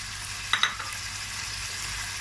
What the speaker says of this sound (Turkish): havuçlarımı da 2-3 tur böyle kavurduktan sonra böyle biberlerimi ilave ediyorum